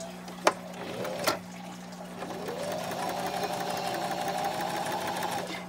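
A sewing machine stitches cotton fabric for a face mask, starting after a couple of sharp clicks and then running in a steady, fast mechanical whir for about three seconds, close and moderately loud with no talking.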